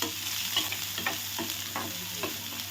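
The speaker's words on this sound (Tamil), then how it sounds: "நான் ஒரு பெரிய வெங்காயம் நறுக்கி வச்சுருக்கேன், அதையும் நம்ம சேர்த்துக்கலாம். அதையும் நம்ம வதக்கி விட்டுக்கலாம் எண்ணெயிலே" Chopped large onion sautéing in hot oil in a pan for tomato chutney, a steady close sizzle with repeated scraping stirs of a spoon about every half second, no voices.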